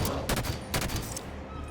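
Dense, rapid gunfire from the Halo 5 video game, with two louder bursts standing out over a continuous rattle of shots and game noise, busy and close throughout.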